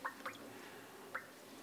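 Whey from freshly pressed oscypek, a smoked sheep's cheese, drips in a few distinct droplets, two close together and one more after a short pause, faint and near against a quiet room.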